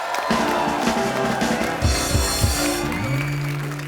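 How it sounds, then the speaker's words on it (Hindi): Studio audience applause on a Hindi television comedy talk show set, a broad wash of clapping and crowd noise under a loud, tonal music bed with a few low thumps. "जोरदार तालियां"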